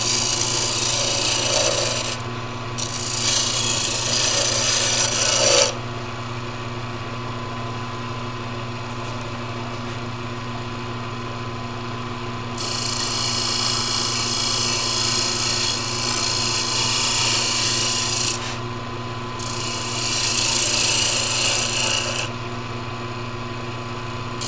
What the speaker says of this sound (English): Sandpaper, I think.